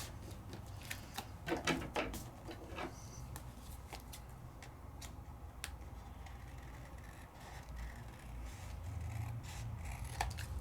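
Scissors trim paper during card crafting, producing scattered crisp snips and small rustles at close range over a faint steady background, with no talk.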